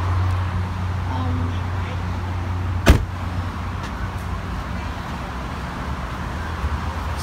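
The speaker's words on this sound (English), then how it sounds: "Okay, so, getting out of the car right now." A single sharp car door thud lands about midway, standing out over a low steady engine or traffic rumble, with no talk while the vehicle's occupants climb out.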